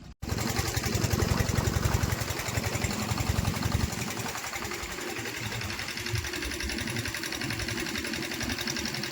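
A small farm engine runs steadily with a fast rattling chug, loud and close, starting abruptly and droning on without pause, during paddy field preparation.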